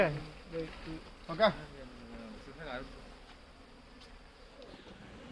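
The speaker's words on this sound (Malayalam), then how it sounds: "ഇവിടെ തേനീച്ച ഇങ്ങനെ ആകെ മൊത്തം എന്താ പറയുക പറന്ന് അലമ്പലിച്ച് നിൽക്കട്ടോ" Honeybees buzz around a disturbed hive in a soft, continuous drone, faint beneath someone talking close by.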